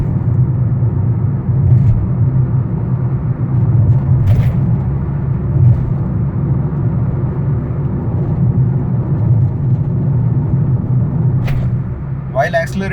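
A Suzuki smart hybrid car's engine accelerating above 2000 rpm gives a steady, continuous low rumble from inside the cabin, with a few faint clicks near the end.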